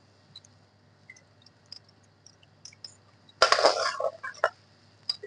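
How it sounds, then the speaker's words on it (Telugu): Onions tipped into hot ghee start frying with a sudden burst of crackling sizzle that flares up, then settles into intermittent pops and spatters, close by and with no talk. "ఇందులో ఉల్లిగడ్డ వేసుకుందాం."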